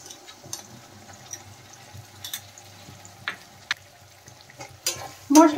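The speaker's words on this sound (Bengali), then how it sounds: "পেঁয়াজ দেখেন ভাজা হয়ে গেছে। এখন এর মধ্যে আমি মশলাটা দিয়ে দিলাম।" Spice paste added to fried onions in a pan for paneer Lahori, soft sizzling under scattered stirring scrapes and clicks, quiet at first and building to a louder burst of sizzle at the end.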